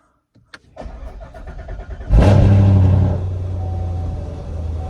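A car engine idles after a blown-out spark plug was repaired, firing up loudly about midway with a steady low rumble that then settles into a constant idle, with no talk.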